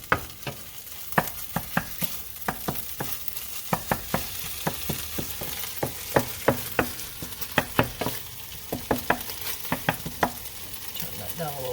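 Rice fries in butter in a pan, giving a steady close sizzle broken by a rapid series of sharp spoon taps and scrapes against the pan as it is stirred.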